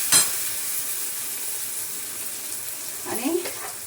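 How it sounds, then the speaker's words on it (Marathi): Onion and chopped coriander sauté in hot oil in a pan, giving a steady soft sizzle throughout with a brief spoon stir near the end, fairly quiet and with no talking. "थोडीशी कोथिंबीर परतून घेते इथं"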